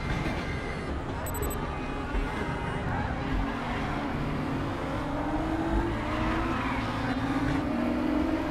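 BMW race car in the RaceRoom racing game, its engine droning steadily and rising in pitch through gear changes during a multiplayer race, with a voice talking over it.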